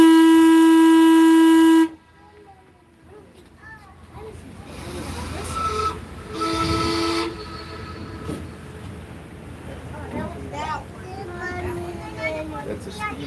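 A steam whistle on the 1902 steam yacht Louise blows one loud, sustained, tonal blast for about two seconds and then cuts off. Quieter boat engine noise and scattered voices follow.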